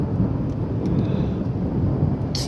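Thunder rumbles low and continuous through a Michigan thunderstorm, with steady rain hissing over it, loud and near, no talking.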